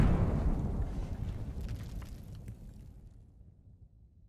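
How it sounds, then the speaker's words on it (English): A layered explosion sound effect opens with a heavy low boom and then rolls into a long, crackling rumble that slowly fades to silence over about four seconds, with no voices. "This next example is an explosion sound that I made out of three positional layers."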